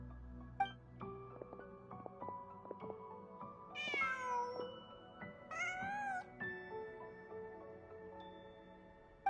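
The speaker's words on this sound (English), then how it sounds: "Just a cat." Cat meowing inside a video game, several drawn-out meows rising and falling around the middle, clear and fairly close over soft game music and ambience, with no talking.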